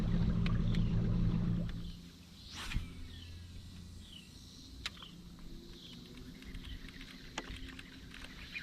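A fishing boat on Lake Chickamauga runs with a low engine rumble that cuts off after two seconds, leaving quiet water, wind and scattered knocks and taps nearby.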